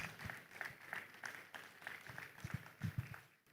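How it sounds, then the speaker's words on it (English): Audience at an Afri-Caribbean investment summit clapping to welcome the moderator onto the stage, a modest, fairly faint patter of applause with a few sharper claps toward the end. "Give her a round of applause as she comes."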